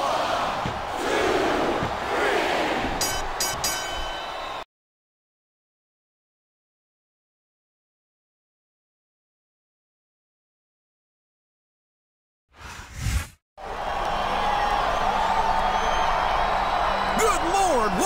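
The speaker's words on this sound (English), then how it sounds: "I think this crowd's giving these superstars a piece of their minds, King." Video game wrestling crowd from WWE SmackDown vs. Raw 2007, a loud arena roar of cheering and shouting that cuts to silence for several seconds, then bursts back in and stays loud to the end.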